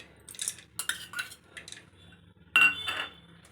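A metal spoon scrapes and clinks against a pan in several short bursts as soaked moong dal is mixed for kosambari, with a louder clatter near the end.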